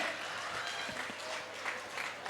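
Applause from an audience at a Bhojpuri bhajan evening in Bangalore, a steady dense wash of clapping that holds throughout at moderate loudness with no talk over it.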